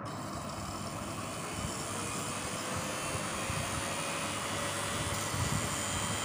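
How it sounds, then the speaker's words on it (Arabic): A refurbished Moulinex blender motor, once submerged in water, runs on a test lead at high speed, giving a steady, loud whirring roar with a thin whine that holds unchanged throughout. "فضل معنا نجرب الموتور باستخدام السريع."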